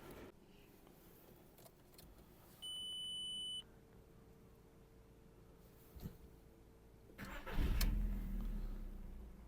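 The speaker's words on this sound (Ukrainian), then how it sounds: "Автомобіль завівся дуже легко" A short electronic beep sounds, then after a pause a Volkswagen Golf IV engine cranks and starts easily with a rising rumble near the end. Background is quiet.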